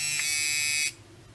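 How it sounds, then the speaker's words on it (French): A Full HD keychain spy camera switches off with one sharp, close electronic buzzing beep that lasts just under a second and then stops, leaving faint room quiet with no talking. "Et pour arrêter la caméra, j'appuie 3 secondes sur le premier bouton."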